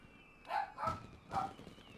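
Dog barking during fireworks in a Final Fantasy XIV event: three short, moderately close barks spaced about half a second apart over quiet background hiss.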